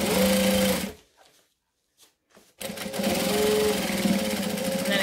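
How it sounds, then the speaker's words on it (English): A sewing machine top stitches quilt fabric with a fast, steady mechanical whir, pausing briefly in the middle before running again at a close, even pace. "And then I'm going to top stitch."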